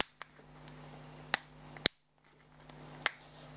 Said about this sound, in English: those clicking sounds because it's a clicking mechanism